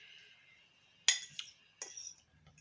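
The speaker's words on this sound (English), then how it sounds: "so I'll give it a good stirring around." Cutlery clinks against a dish while chicken curry is stirred into rice, a few sharp metallic taps and scrapes, close and alone in a quiet room.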